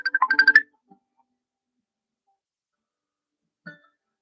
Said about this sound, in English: How is my phone ringing and yet it's in airplane mode?